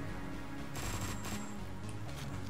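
Gunfire bursts from a shotgun in Hotline Miami 2, dense and continuous over a loud game soundtrack, with sharp blasts standing out near the middle.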